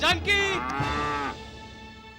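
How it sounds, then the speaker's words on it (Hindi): A cow moos once, a loud, drawn-out low call close by that fades into quiet. "ये तो पौना गाय की आवाज है।"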